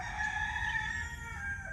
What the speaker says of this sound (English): Those roosters always seem to want to interrupt.